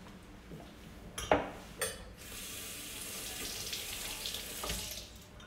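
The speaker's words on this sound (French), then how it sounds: "Je vais laver ma petite planche" A kitchen tap runs steadily into a sink while a small cutting board is rinsed, with a couple of brief knocks and clatters of the board near the start, close and fairly quiet.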